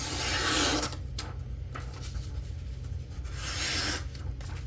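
A sharp Kershaw jack knife blade rasps and scrapes through paper in a couple of close, dry slicing strokes, with soft rustling between them.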